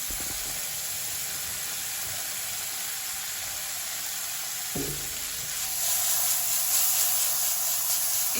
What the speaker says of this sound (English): you just want to fry these on high heat until you get a nice golden color all the way across on each side of the halloumi